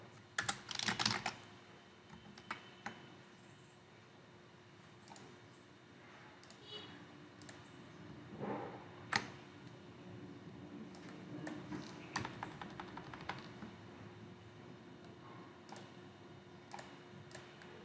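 Computer keyboard clicking as text is typed into MS Word, irregular soft taps in short bursts, quiet and close, with a steady faint hum beneath.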